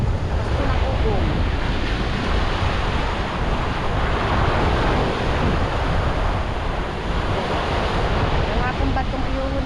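Big ocean waves stirred up by a typhoon crash and roar continuously, a loud, dense surf wash mixed with wind noise on the microphone.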